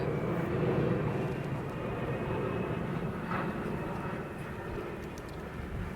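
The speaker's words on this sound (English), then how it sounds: "Can you hear me above that plane?" An airplane passes overhead in London, a loud, steady broadband engine roar that fills the whole stretch and fades slightly toward the end.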